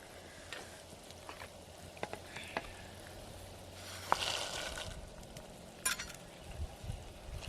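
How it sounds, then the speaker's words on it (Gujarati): Cashew gathiya curry bubbles and sizzles softly in a pot on a village cooking fire, with faint scattered clicks and a few louder scrapes and stirring sounds over the steady low simmer. "બધું ઉકળી ગયું છે આપણે ગાંઠિયા નાખી દઈએ આમાં"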